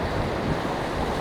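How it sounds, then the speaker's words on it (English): Ocean waves wash and splash against rocks at Bondi Beach, a continuous broad rushing surf with steady wind noise across the microphone. "You can see the water like splashing up on those rocks over there."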